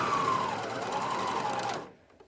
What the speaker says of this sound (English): when you're starting out learning how to use a serger